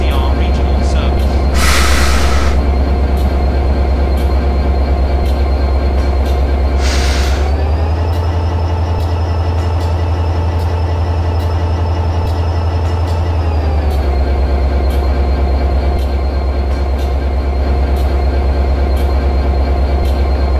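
A Class 67 locomotive in battery mode rolls toward a station platform with a loud, steady low rumble. A rising electric whine holds for several seconds in the middle before easing back, and a few brief sharp noises break in early on.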